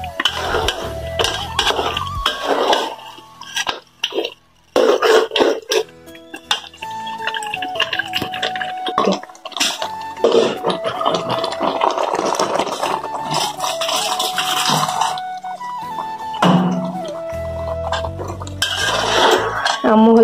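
Spiced meat stirred in a cooking pot in a village kitchen, a spoon scraping and clinking against the metal in repeated bursts over about twenty seconds, with steady tonal music playing throughout.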